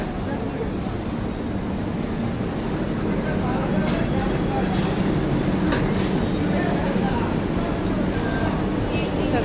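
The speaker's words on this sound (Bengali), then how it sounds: "দেখো ট্রেনটা চলে যাচ্ছে কীভাবে" A train pulls away from a station platform, a loud, continuous rolling rumble of wheels and carriages close by, with faint high squeals breaking through now and then.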